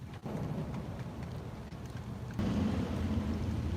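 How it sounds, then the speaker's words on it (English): Florida rain starting to fall outdoors, a steady close hiss of drops that swells noticeably louder partway through, with no voices. "Florida weather Now it's starting to rain"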